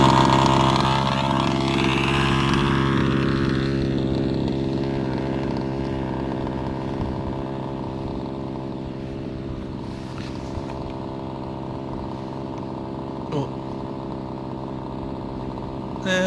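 A rebuilt Rovan Baja 30.5 RC car's small petrol engine runs continuously with a buzzing, chainsaw-like drone, loud and close, slowly easing in pitch and intensity over time.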